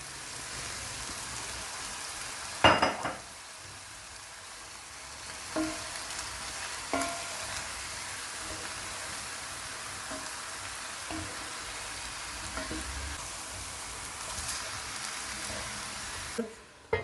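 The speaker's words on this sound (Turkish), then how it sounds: "kavrulma işlemine devam ediyorum" Chicken and mushrooms sautéing in a pan, a quiet crackling sizzle with occasional sharp clinks of a utensil against the pan, close and faint throughout, without speech.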